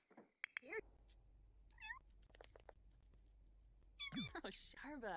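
Game kitten in The Sims 4 meowing in a few short, high, rising calls, some near the start and a run of louder ones at the end, mixed with brief game sounds and a person talking over them.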